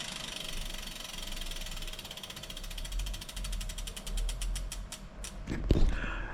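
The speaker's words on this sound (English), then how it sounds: "what I'm going to do is put my cassette back on, grease it a little bit" Bicycle cassette being refitted and greased, its freehub pawls ratcheting in a steady run of clicks that quicken toward the end, close and fairly quiet, with a louder clack near the finish and no talking.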